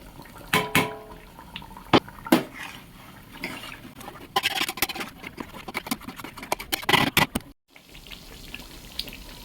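Washing water from ground onion being poured into a cooking pot for potato curry, with intermittent splashes and short trickling bursts, close by, separated by quieter gaps and a brief dropout.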